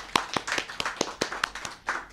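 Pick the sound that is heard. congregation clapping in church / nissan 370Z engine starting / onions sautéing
congregation clapping in church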